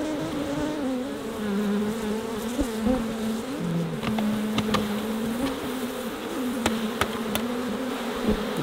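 A honeybee buzzes at a beehive in Banyuls, a loud, close, continuous drone that wavers in pitch, with a few faint clicks and handling sounds behind it.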